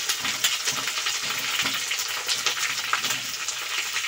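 Taro and potato pieces fry in a pan with green chilli and ginger, giving a steady, bright crackling sizzle with occasional stirring and no voices.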